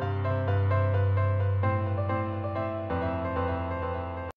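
A piano with a delay effect in FL Studio plays sustained notes and chords that ring on with echoing repeats, clear and close, then cut off abruptly at the end.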